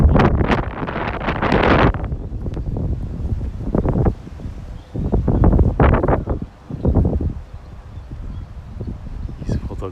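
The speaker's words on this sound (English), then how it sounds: "Crazy windy, my gosh, it's scary to go in there." Strong wind on a sunny winter day in Tokyo gusts hard against the microphone in loud rumbling bursts, easing in between, while a voice talks intermittently.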